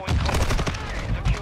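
Rapid gunfire in Call of Duty Modern Warfare II, a dense burst of pistol and automatic shots rattling continuously at close range with no pause.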